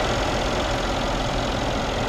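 A 2016 Mercedes-Benz S63 AMG with a 5.5-liter twin-turbo V8 idles close by, a steady, dense rumble that holds even in level and tone throughout, with no voices over it.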